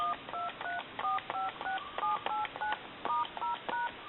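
Touch-tone telephone keypad dialing a string of numbers on a hand-painted wooden duck telephone under repair: about a dozen crisp two-tone beeps in quick, slightly uneven succession, clear and close, with a faint hiss between presses.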